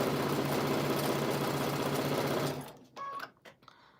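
A sewing machine stitches quilt block pieces together in a steady, rapid mechanical hum, close and loud. It stops near the end, leaving a few small clicks and handling noises.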